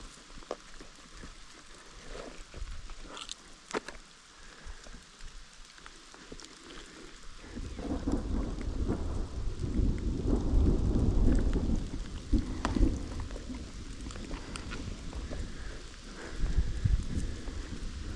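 Rain falls steadily through a nighttime thunderstorm during an elk archery hunt in Colorado, with rolling thunder rumbling in after several seconds and building to a heavy, sustained low roar before easing slightly.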